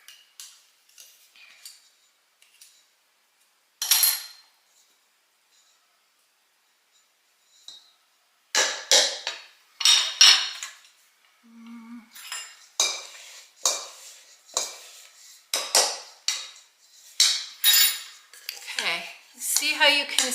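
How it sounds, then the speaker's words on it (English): Repeated metallic scraping and clinking strokes of a pastry blender cutting butter in a bowl for apple pie, irregular bursts after a mostly quiet start. "with my pastry blender"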